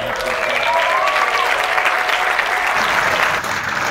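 A comedy juggler's audience breaks into loud, sustained applause after a juggling trick, a dense wash of clapping with a faint cheer or whistle riding on top, holding steady for several seconds.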